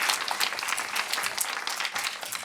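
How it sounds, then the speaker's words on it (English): Audience applause at a plenary session of a conference, dense steady clapping from a room full of people for the whole stretch. "And first, an applause for Patrice."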